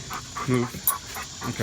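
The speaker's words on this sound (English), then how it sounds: "That's my dog" A dog pants in quick, soft breathy bursts close by in a backyard chicken setup, under a person briefly speaking.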